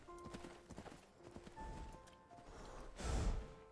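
Horse hooves clip-clop in the Skyrim video game, a run of quick, light beats amid other game sounds, ending in a louder thud near the close.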